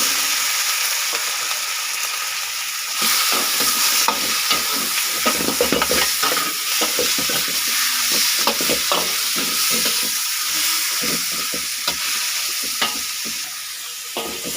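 Marinated, drained pork for adobo sautéing in a hot pan, a steady broad sizzle with frequent scraping stirs and clinks of a utensil, close and continuous throughout with no talking.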